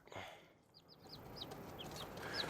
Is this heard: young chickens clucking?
yes